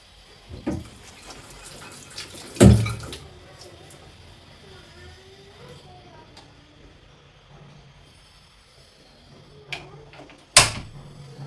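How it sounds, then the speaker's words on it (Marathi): Tap water runs at a kitchen sink while curry leaves are rinsed, a soft, faint trickle with sharp clatters and bumps of handling near the start and end, and no talk. "कढीपत्ता अगोदर धुवून घेते."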